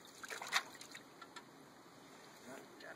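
Water trickles and splashes faintly while a low-velocity sluice box is rinsed out in a small creek, with a brief louder slosh near the start before settling to a soft dribble.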